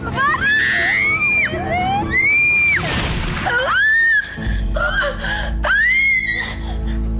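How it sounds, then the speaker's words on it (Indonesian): High, wavering screams from a woman rise and fall over a noisy background, with gasps and a burst of harsh noise in between. "teriak yang kenceng"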